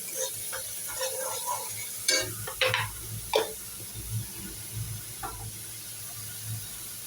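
Spices and potatoes sizzle in a pan with a soft steady hiss, broken by a few scraping stirs and metallic pan knocks in the middle; faint kitchen background, no clear talk.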